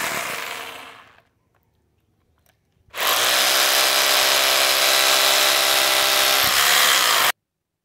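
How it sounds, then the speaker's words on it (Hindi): An electric drill bores holes into a wall while a satellite TV dish is being moved. A short burst fades out and after a pause a loud, steady drilling run lasts about four seconds, close by with no talking. "इसके लिए हमें ड्रिलिंग करना है तो ड्रिल मशीन से मैं ये ड्रिलिंग कर रहा हूँ यहाँ से"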